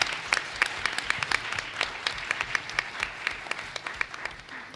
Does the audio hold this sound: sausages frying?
no